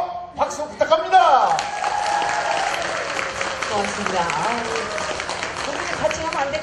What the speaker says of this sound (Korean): 소리 부르트도록 박수 부탁합니다